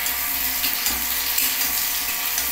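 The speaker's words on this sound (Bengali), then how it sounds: "বেশি লাল করে ভাজবো না, একটু হালকা ভেজে নিচ্ছি" Cauliflower florets fry lightly in oil for a cauliflower roast, giving a dense, steady sizzle and crackle, close and continuous with small stirring bumps.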